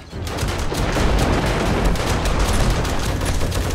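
Juggernaut zombie explosions and heavy gunfire-like blasts in the 7 Days to Die survival game, a dense, continuous loud barrage of booming bursts with no gaps, alone without talk.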